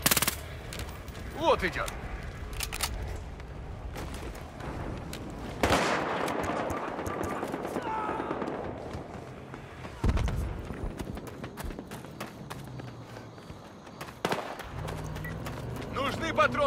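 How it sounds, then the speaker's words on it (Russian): A jeep-mounted minigun in the video game Battlefield Hardline fires in loud, rapid bursts that come several seconds apart amid other gunfire and game noise, while shouted voices are heard over the action. "На джипе миниган!"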